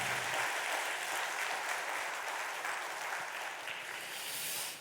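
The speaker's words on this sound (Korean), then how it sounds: "힘차게 박수하겠습니다." Congregation applauding during a Sunday church worship service, a steady dense wash of clapping throughout that tapers off at the very end.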